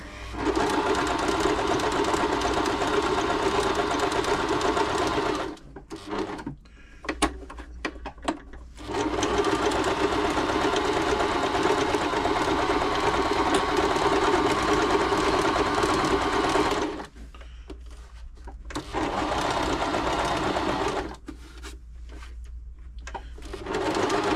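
A Bernette b35 sewing machine runs a stretch stitch, a steady mechanical whirring with rapid needle chatter that stops briefly twice, with small clicks in the pauses, heard close and alone.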